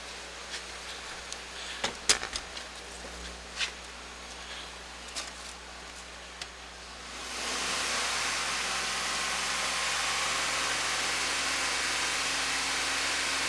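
A car engine idles quietly with a few clicks and taps for several seconds during P0171 lean-code diagnosis, then the revs rise into a loud, steady hissing roar that holds to the end.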